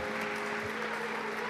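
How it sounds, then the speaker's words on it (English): An audience at a conference applauds a session, producing a continuous, even wash of clapping at moderate distance throughout the short stretch. "a warm applause, a great applause to Nikesh Arora and Spencer Rees"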